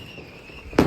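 A laddu mini ball firecracker goes off during Diwali with a single sharp, loud bang after a moment of quiet outdoor hiss.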